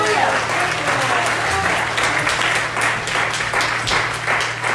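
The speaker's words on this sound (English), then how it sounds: "Give the Lord a hand clap of praise everywhere." A church congregation claps in praise, a full and sustained round of applause with a low hum underneath and voices faintly mixed in.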